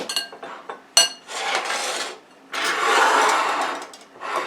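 A spoon or whisk works egg yolks and mayonnaise together in a bowl for deviled eggs, giving bursts of close scraping and clinking against the bowl with short pauses between strokes.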